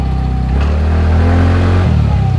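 A TVS Ntorq 125 Race Edition scooter, not yet serviced, accelerates close up with a loud, steady engine drone that rises slightly in pitch during a test ride.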